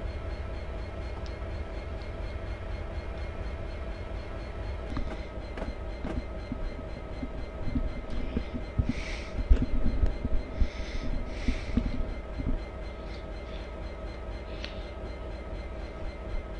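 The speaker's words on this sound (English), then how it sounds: "So I am going to start slowing my train now." A train in the video game Train Simulator rumbles steadily along the rails on the Settle to Carlisle line, with clicking wheels and brief squeals as it gradually eases its speed; no voices.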